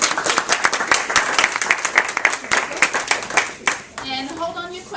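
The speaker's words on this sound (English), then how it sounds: "let's give a round of applause to our presenters" A small workshop audience claps for presenters, a few distinct close handclaps in a loose rhythm that thin out, with a voice speaking over the end.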